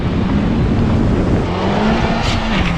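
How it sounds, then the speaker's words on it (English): A BMW X4 M40d diesel, a Honda Civic Type R and an electric Audi e-tron launch together in a drag race, a loud, steady roar of engines and tire noise close by. "That BMW just shot off."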